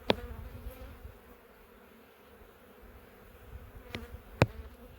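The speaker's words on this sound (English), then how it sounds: "Oh yeah, here comes the bees pouring off of it" Honey bees pour off the comb during a late-April hive inspection, giving a faint, steady low buzz with a few sharp clicks and knocks.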